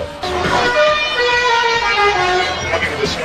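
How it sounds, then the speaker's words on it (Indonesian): A bus telolet horn in Indonesia, a loud melodic multi-tone honk playing a changing sequence of sustained pitches, heard near and clear with a voice talking over it. "klakson telolet yang saat ini sedang menjadi bahan perbincangan"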